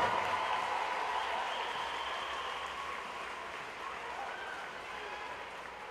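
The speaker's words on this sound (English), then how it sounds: "how about a round of applause there for your Charlotte UltraSwim champion, Josh Schneider." A crowd applauds at the 2011 Charlotte UltraSwim Grand Prix swim meet, making a steady, dense wash of clapping that holds evenly for several seconds and fades slightly toward the end.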